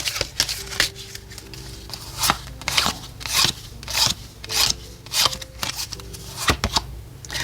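Oracle cards shuffled and drawn by hand during a tarot reading: repeated crisp riffling, rubbing and flicking bursts in an uneven rhythm, close and fairly quiet, with no voices.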